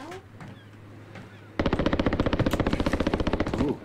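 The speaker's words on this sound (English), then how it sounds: "they're shooting somebody. They're getting in a fight over there" Rapid automatic gunfire in the Call of Duty Warzone video game, a loud sustained burst of about two seconds following a quieter stretch, with a voice talking over it.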